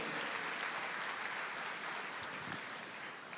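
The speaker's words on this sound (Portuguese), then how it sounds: "Será que podemos dar uma salva de palmas ao Pastor Lamartine e sua família linda?" A church congregation applauding a pastor and his family, a dense, even wash of many hands clapping steadily throughout at moderate distance.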